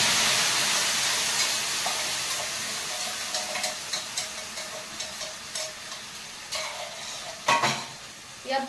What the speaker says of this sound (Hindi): किचन में मैंने तेल को गर्म कर दिया, इसमें डाल दिए हैं मैंने जीरे।